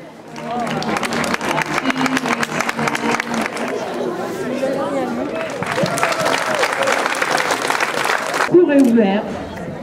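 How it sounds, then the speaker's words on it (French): A festival crowd at Bessines-sur-Gartempe claps steadily and densely for several seconds, loud and close, with chatter and voices mixed in and a brief voice near the end. "on les applaudit quand même là"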